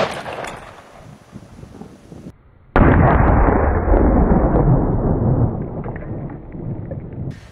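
A .223 full metal jacket rifle round is fired into cement blocks outdoors: quiet rustling gives way to one sharp, loud report, then a long, roaring, rumbling impact and debris noise that slowly fades.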